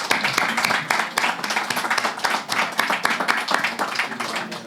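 An audience applauds for two film directors at a festival podcast event, dense clapping sustained and loud from start to finish with no pause.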